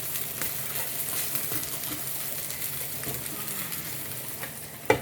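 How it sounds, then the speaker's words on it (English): Steady, dense sizzling of tomatoes frying in a pot for Nigerian jollof rice, continuous crackle and spatter throughout, with a brief clatter at the end. "So let's see how the tomatoes is doing. Yeah, frying very well."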